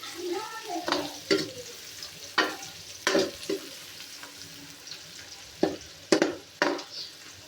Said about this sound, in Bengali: তো আমার বেরেস্তা ভাজা হইতেছে